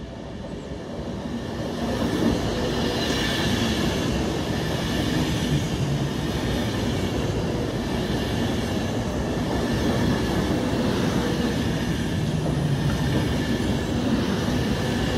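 Avanti West Coast class 390 Pendolino electric train passing, a loud, sustained rushing roar of wheels and carriages that swells within the first seconds and then holds steady throughout.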